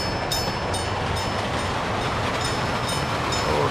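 Freight train rolling along a rail line in the Soviet-era city-building game Workers & Resources: Soviet Republic, a steady loud rumble of wheels and cars with faint rhythmic clicks, continuous and close throughout.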